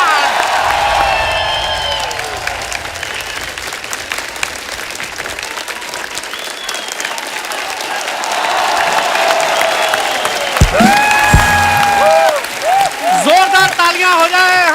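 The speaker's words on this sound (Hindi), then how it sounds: "जोरदार तालियां हो जाए हमारे मेहमानों के लिए।" A studio audience at a Hindi TV comedy show, The Kapil Sharma Show, applauds and cheers loudly and steadily for celebrity guests, with whoops rising near the end and a few brief tonal effects mixed in.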